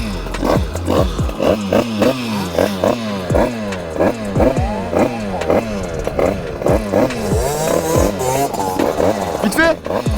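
A motorcycle engine, loud and close, revving over and over in a rapid rhythm of sharp bursts and drops, with a clattering mechanical edge throughout.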